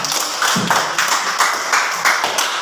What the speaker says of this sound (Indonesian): Tepuk tangan dulu untuk Andi